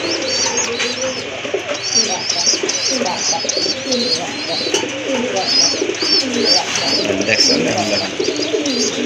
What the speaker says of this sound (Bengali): নরের ডাকটা দেখাই দিই।